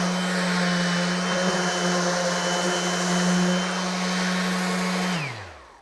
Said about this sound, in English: there's a little bit of a fan or suction that's cooling the motor and also pushing some of the air and sawdust out the back